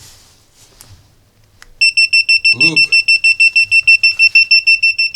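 An AliExpress live wire detector set off by a live wire, giving a steady run of rapid, evenly spaced electronic beeps, loud and close, after a brief spoken word and some handling noise.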